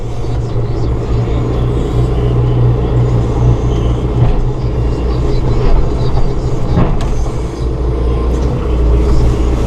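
A 2016 John Deere 5100E utility tractor with four-wheel drive engaged idles in a steady, loud diesel rumble while its front loader lowers, the low drone continuous and close with no talk over it.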